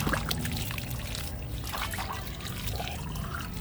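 Water trickling and pouring steadily, fairly close, as a canary's cage item is rinsed clean; a continuous splashing flow with no voices.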